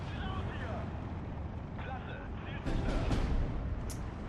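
Mortar shells burst around a town in the Steel Division 2 war game, dull explosions thumping over a constant rumbling battle din, with a sharper crack near the end.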